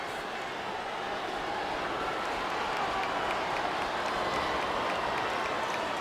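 Dense, steady roar of a wrestling arena crowd cheering and applauding in Smackdown vs Raw 2008 on PS2, during a Hell in a Cell match between Randy Orton and King Booker; loud, continuous and unbroken throughout.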